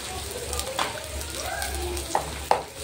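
Potatoes fry in a wok with poppy seeds and cumin, giving a steady close sizzle with a few sharp stirring clinks near the end; no one speaks over it.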